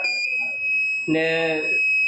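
A rain sensor science project's alarm buzzer sounds as water touches the sensor, giving a steady, high electronic tone throughout while a voice talks over it briefly.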